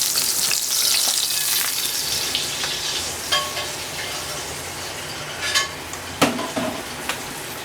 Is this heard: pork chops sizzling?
yes